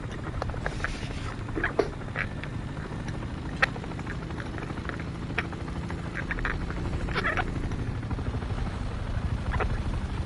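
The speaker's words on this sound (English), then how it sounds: "Oh, that's a friendly helicopter." A friendly helicopter flies in War Thunder, its steady rotor and engine drone continuous and fairly loud throughout, with faint scattered clicks and bumps over it and no talk.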